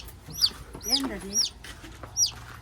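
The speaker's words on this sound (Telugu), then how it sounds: "కోడి పిల్ల" Chicken clucks and high chirps from a chick and hen close by, several short calls spaced across a couple of seconds.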